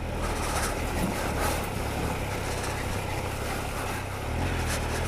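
Motorcycle riding a muddy winter trail, a steady loud engine drone mixed with heavy wind rush, continuous and close with slight swells, no talking.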